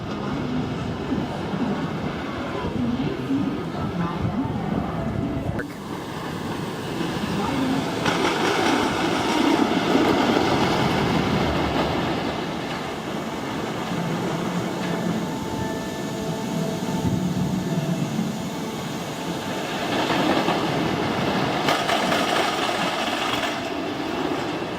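A roller coaster train running a long double out-and-back track at The Great Escape park in Queensbury, New York, with sustained rumbling wheels, clatter and rattling over the full length, and faint voices in the background.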